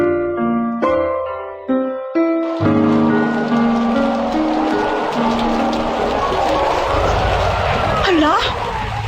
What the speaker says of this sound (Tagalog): grabe ka paskog siyang ulan ba?